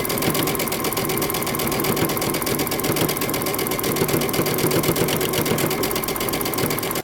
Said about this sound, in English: Now we're going to sew our band to our lining.